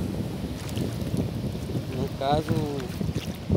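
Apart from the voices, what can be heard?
wind blowing by the sea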